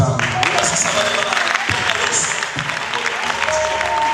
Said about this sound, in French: Voilà les amoureux de Jésus qui acclament très fort pour Yahweh